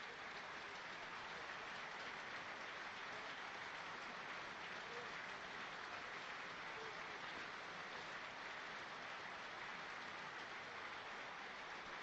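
Steady, dense applause from a large football crowd at Sunderland's Stadium of Light during a Sunderland versus Middlesbrough match, a continuous broad wash of clapping that holds level throughout without breaks.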